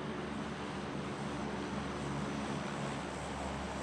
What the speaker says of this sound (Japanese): じゃあ私は、飛行機の音に乗じて詰めてみる。